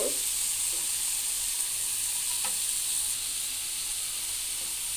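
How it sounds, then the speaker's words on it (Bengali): Pointed gourd pieces fry in oil with salt and turmeric, a steady, moderately quiet sizzle with a couple of soft stirring knocks. "আমি এখানে পটলগুলো ভেজে নেব"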